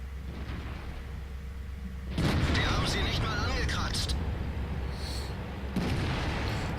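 A tier 9 E-75 heavy tank cannon fires in a tank video game, a sudden loud boom near the two-second mark followed by a rumbling roll, then a second shot near the end.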